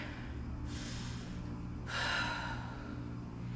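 Slow audible breaths are drawn and released while a yoga lunge is held with weights pressed overhead, two soft airy breaths over a steady background hum.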